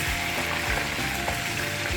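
Steady, dense crackling sizzle of tempering spices and red chili frying in hot oil for Punjabi-style lentils, close and continuous with faint stirring.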